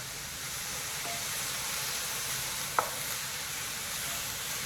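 Yakamein soup ingredients frying in a pan, a steady broad sizzle and hiss with a faint stir clink, close and even, no speech.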